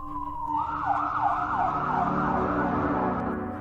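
Ambulance siren wailing in a steady rising-and-falling cycle, fairly loud and sustained over a low vehicle rumble, with no voices.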